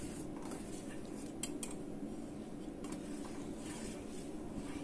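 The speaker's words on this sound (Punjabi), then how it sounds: "ਹੁਣ ਆਪਾਂ ਇਹਨੂੰ ਲਗਾਤਾਰ ਹਿਲਾਵਾਂਗੇ।" A spoon scrapes and clinks against a pot while stirring dalia porridge cooked with desi ghee and milk, steady and continuous under a constant hiss, with a few sharper metallic taps.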